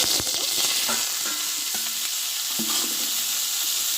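Steady loud sizzling of cauliflower leaves frying in hot oil, with a few soft stirring clinks.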